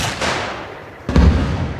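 A single heavy blast bursts out after a second of low rumbling, followed by a booming roar that lingers, from a rocket launcher firing in the video game Arma Reforger.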